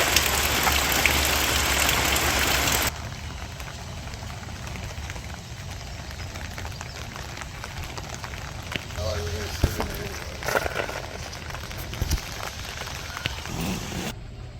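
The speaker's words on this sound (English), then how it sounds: "He's out there grilling in the rain." Steady rain falls at a campsite where someone grills outdoors beside a tent, a dense hiss that starts heavy then softens, with occasional nearby clanks and knocks.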